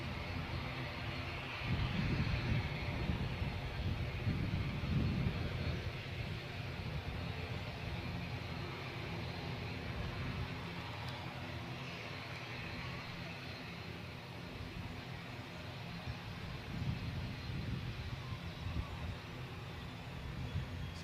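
Aircraft arriving at Guernsey Airport, heard as a steady broadband engine roar with low rumble from a landing plane, fairly loud and continuous, with wind noise over the microphone throughout.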